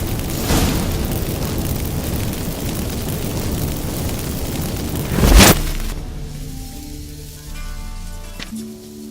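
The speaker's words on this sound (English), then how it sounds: "Get ready for some magic fireworks." Magic fireworks set off by activated incense in The Witcher 3 video game: a sustained dense crackling roar with a sharp bang midway, then quieter fizzing and scattered pops.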